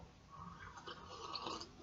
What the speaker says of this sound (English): Let's take a coffee hit.